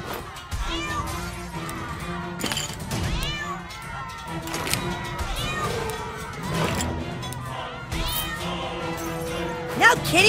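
Cartoon cats meow and caterwaul repeatedly in a South Park: The Stick of Truth video game fight, loud and close, mixed with game effects and a character's speech.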